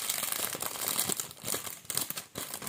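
A thin plastic packaging bag being handled and crumpled, giving continuous crackly crinkling with irregular louder bursts, close up and with no speech.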